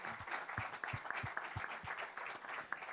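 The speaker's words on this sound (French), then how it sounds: "Moi, j'ai envie qu'on l'applaudisse" Conference audience applauding a speaker: a faint, distant patter of many hands clapping at an uneven rhythm, steady for a few seconds, with no talking over it.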